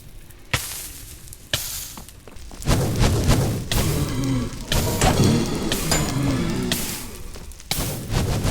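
Minecraft blaze mobs near a spawner hurl fireballs, producing a series of sharp thumps and booming bursts over crackling game noise, several hits spread irregularly across the span.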